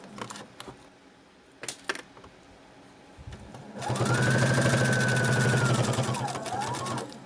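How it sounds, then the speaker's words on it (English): A sewing machine stitches fabric binding onto a pocket piece for a reusable face mask case, about 1/8 inch from the edge. After a few faint clicks and handling noises, the motor starts and runs as a loud, steady, close whir to the end. "And I'm going to stitch this binding onto my pocket piece."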